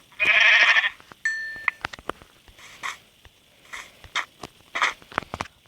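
A sheep being killed in Minecraft gives a short bleat, then a run of quick clicking hit and footstep sounds with a few softer bleats, fairly close and without speech.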